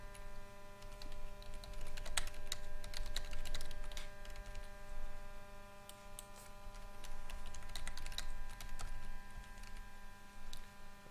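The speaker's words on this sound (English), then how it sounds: "I'm typing here." Keys clatter steadily on a computer keyboard in bursts of close, crisp clicks over a constant electrical hum, with no talking.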